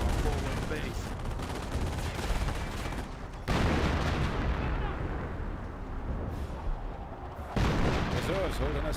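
A British 25-pounder artillery barrage pounds a medic station in the video game Company of Heroes, with dense, rumbling blasts and gunfire crackling continuously while a commentator talks over the battle.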